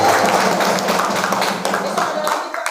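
Scattered clapping for a neighbourhood head's wife at a pre-Ramadan gathering in Indonesia, a short burst of hand claps under lively talking and voices nearby.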